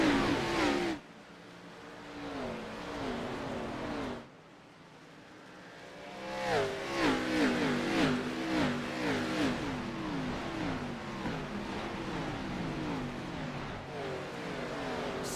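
Race cars restart under the green flag at Bristol Motor Speedway, a pack of engines revving hard and accelerating together, the roar swelling loud after a brief lull and staying dense with overlapping engine notes.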